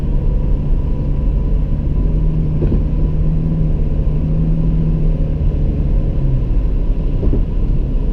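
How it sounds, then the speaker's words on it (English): A 2018 Toyota Fortuner SUV engine drones steadily while driving in power mode, a low rumble with a faint rising tone, nearby and continuous, with no talking. "You can definitely hear the engine roar."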